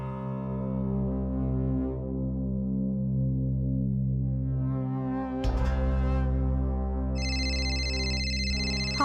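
A mobile phone rings with an incoming call inside a home, its steady electronic tone pattern repeating over a sustained low hum, with a brighter, higher chiming layer joining near the end.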